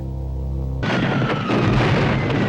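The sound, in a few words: fireworks exploding in a film scene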